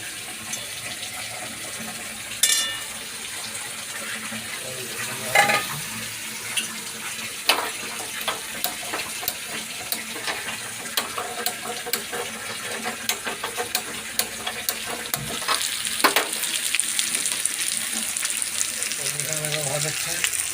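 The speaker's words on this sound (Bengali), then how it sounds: "দেখো এই দেখো পটল ভাজা হচ্ছে এখানে" Pointed gourd (potol) frying in a pan for a home meal, a steady faint sizzle with scattered crackles and clinks running throughout, with a few louder knocks against the cookware.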